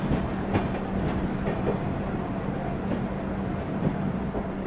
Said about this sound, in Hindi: हम प्रयागराज वाली लाइन की ओर बढ़ते हुए